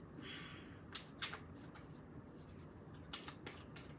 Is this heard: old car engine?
no